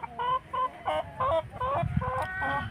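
Chickens on a farm, with roosters calling nearby, give a rapid series of short, loud, nasal calls in a choppy rhythm against faint background noise.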